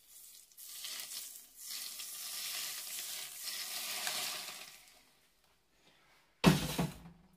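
Heated sunflower oil is poured over a fresh vitamin salad of bell pepper, tomato, cabbage and carrot, giving a loud, sudden sizzle near the end after a quieter stretch of clinking and stirring.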